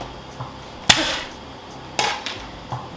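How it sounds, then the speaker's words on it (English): Garlic cloves being smashed flat with a kitchen tool for cutting: two sharp thuds about a second apart, with lighter knocks between, close and moderately loud. "You see them all like smash the garlic, right?"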